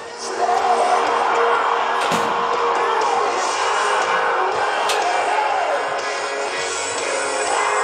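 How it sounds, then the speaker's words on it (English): At an outdoor rodeo in Valemount, BC, a large crowd applauds and cheers for a cowboy, a sustained wash of clapping and whoops with a couple of sharp slams, heard from within the stands. "Give him a big round of applause"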